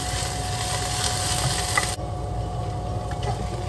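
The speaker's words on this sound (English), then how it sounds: "So I'm stir frying some of the spring onions" Spring onions sizzle steadily in a hot pan while being stir fried, a continuous frying hiss that drops noticeably in brightness partway through.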